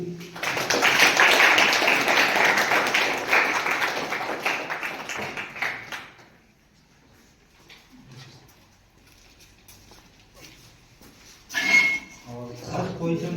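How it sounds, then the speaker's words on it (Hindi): A crowd at a prize-giving during a youth event at a nursing college hostel in Jaisalmer applauds loudly for about six seconds. The clapping then fades to a quiet room with scattered small sounds. "तालियां।"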